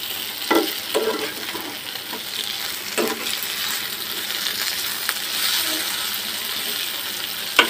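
Rohu fish fries with onion in a pan, giving a continuous soft sizzle and hiss with occasional spatula scrapes and taps close by, no voices.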